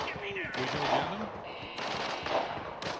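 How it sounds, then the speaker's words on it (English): Bursts of rapid gunfire in Arena Breakout, crackling repeatedly amid a busy, noisy mix with sharp cuts between loud stretches. "The gunfire in all directions now"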